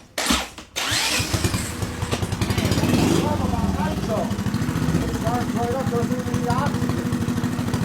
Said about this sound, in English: let's get this thing started and see what kind of numbers it's going to make